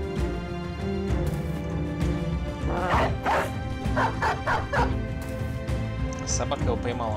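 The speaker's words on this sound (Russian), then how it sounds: "собака его поймала." A dog barks repeatedly in the video game Battle Brothers, a run of sharp mid-range barks under a steady game music bed, with voices talking over it.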